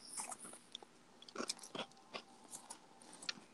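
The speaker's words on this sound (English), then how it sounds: "Can you hear me chewing this shit? I'm eating chips." Crunchy chips being chewed close to the mic, with repeated sharp crackling bites in an irregular rhythm and quieter munching between them, with no talking.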